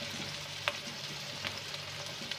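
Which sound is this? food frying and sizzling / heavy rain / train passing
food frying and sizzling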